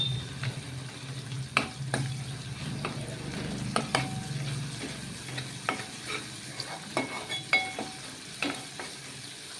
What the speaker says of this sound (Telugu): ఇగో కొంచెం అల్లం ఎల్లిగడ్డ వేస్తున్నా మంచిగా నూనె వేయాలి